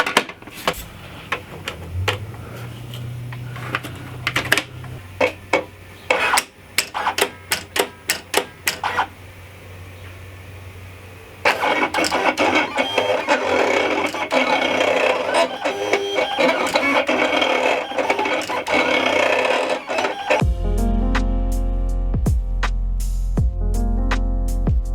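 A Silhouette Cameo Pro cutting machine on a test run: a start of rapid clicks and whirs, then a long, steady, loud whirring buzz of carriage and blade moving across the material, ending with a few clunky, rhythmic motor pulses.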